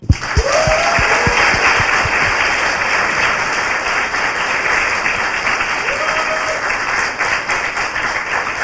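An audience at a film talk breaks into loud, sustained applause, beginning with a few sharp claps and swelling into a steady, dense roar of clapping that holds evenly, with brief voices audible in the crowd.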